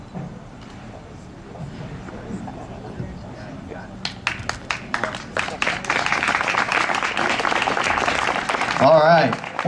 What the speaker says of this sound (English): One more big round of applause for Kathy Ramirez, everybody.